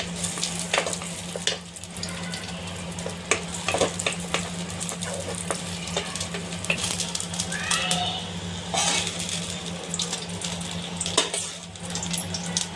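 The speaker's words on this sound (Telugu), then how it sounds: "జీడిపప్పుని వేపుతా ఉన్నాను ఫ్రెండ్స్" Cashews frying in ghee in a pan, a steady sizzle running throughout with occasional stirring clinks, a constant low hum underneath.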